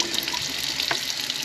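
Tap water runs steadily into a sink while fiddleheads are rinsed off, a constant close hiss and splash with no voices.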